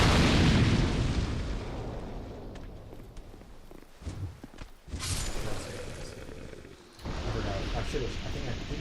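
An explosive fire barrel goes off in Dark Souls 2, a loud broad boom with rumbling debris and crashing that tails off, followed by further thuds and a second surge of noisy impact.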